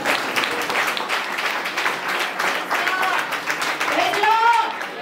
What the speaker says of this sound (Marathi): टाळ्या वाजून देवाला धन्यवाद म्हणू